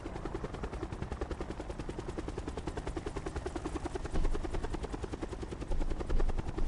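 A helicopter in the video game Call of Duty Blackout, flown high at the map ceiling, a loud, fast, even rotor chop that runs throughout with brief swells near the end.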